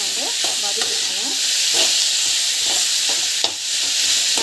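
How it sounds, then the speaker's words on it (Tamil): Onions with salt and asafoetida are sautéed in a pan, giving a bright, loud sizzle with scattered scraping and stirring knocks from a spatula, heard close and alone without speech. "வெங்காயம் போட்டுட்டு நல்லா வந்து வதக்கணும்."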